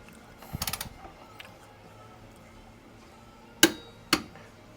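A torque wrench set to 40 foot-pounds tightens a bolt during a K20 transmission install, giving a quick burst of ratcheting clicks followed by two sharp, distinct clicks later, close up against a quiet background.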